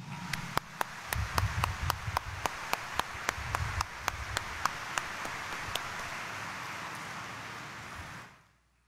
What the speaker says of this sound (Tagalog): pwede ba iparinig natin uli sa mahal na Senyor ang mas malakas nating palakpak?